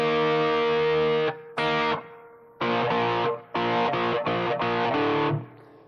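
Heavily distorted electric guitar power chords strike in a chugging rhythm, several sustained and then a rapid run of short stabs, loud and alone.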